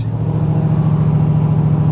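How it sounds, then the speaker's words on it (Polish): A big engine idles loudly and close, a deep steady throbbing rumble with no talking. "Odpalamy sobie silnik."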